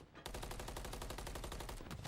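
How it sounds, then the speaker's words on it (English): Dense automatic gunfire from MCW rifles in a professional Call of Duty League match in a terminal map, a continuous rapid burst of shots that starts abruptly, loud and without talk. "The prattle of gunfire across the terminal here, those MCWs putting in work."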